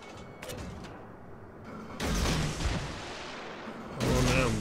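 Guns of the Romulus, a Pan-European tier-3 destroyer in World of Warships, firing in heavy booming salvos, two loud broadband blasts with rumbling tails after a quieter stretch of mechanical ambience.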